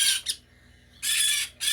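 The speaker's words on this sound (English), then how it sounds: "So here's one of the little conures." A baby conure parrot gives two harsh, shrill squawks close by, the first broken into a quick double burst and the second longer, with a short silent gap between them.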